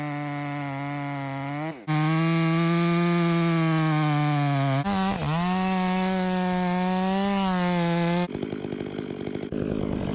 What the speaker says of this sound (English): The lumberjack approaches, gripping his razor-sharp chainsaw. It roars to life with force.